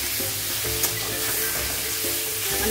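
Boneless chicken pieces for chicken chop fry in a pan, giving a constant close sizzle with scraping, clanking strokes of a spatula as it is stirred, no speech.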